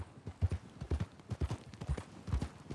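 Horse hooves clip-clopping at a steady walking rhythm in Red Dead Redemption 2, close and fairly quiet, with regular paired hoof falls and no speech.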